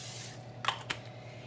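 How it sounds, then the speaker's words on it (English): Cooking spray hisses onto butternut squash in a pan in two quick short bursts, close and clear over a quiet kitchen background hum. "Gonna give that a quick little spray of cooking spray."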